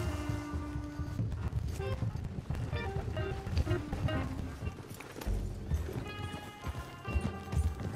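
Rhythmic hoofbeats of a galloping horse in Red Dead Redemption 2 clatter along under layered game music and effects, steady and close throughout.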